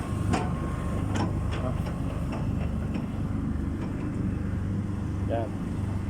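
A diesel shell pump runs steadily at a concreting site, a constant low mechanical drone with faint clanks and knocks over it.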